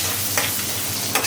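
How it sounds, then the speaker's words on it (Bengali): Mustard oil tempering with cumin and bay leaf sizzles close and bright in a pan, a continuous hiss broken by two quick scraping bursts of stirring, with no talking. "আমি এখন বাগার দিয়ে দেবো সরিষার তেল, জিরে ফোড়ন, তেজপাতা"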